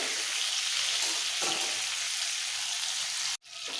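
Pointed gourd frying in oil over a medium-low flame makes a steady, dense sizzle that runs unbroken for several seconds. A brief stir is heard partway through, and the sound cuts out sharply near the end.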